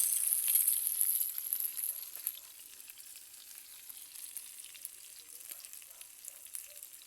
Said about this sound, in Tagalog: Parang prito na rin kasi napuno na siya ng mantika